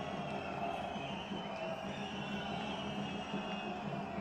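Steady applause from an audience at the inauguration of AIIMS Bilaspur, a dense wash of clapping and crowd noise that holds at an even level throughout without breaks.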